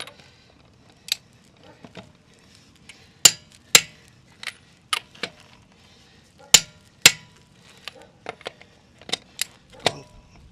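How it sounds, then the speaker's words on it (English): Lug nuts on a Jeep Cherokee XJ front wheel tightened with a torque wrench to about 105 foot-pounds, giving sharp isolated metallic clicks and clacks scattered irregularly across a quiet background. "we'll torque the wheel lug nuts back on"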